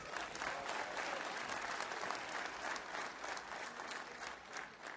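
A large crowd at an outdoor political rally claps and cheers in sustained, dense applause that holds steady and eases slightly toward the end.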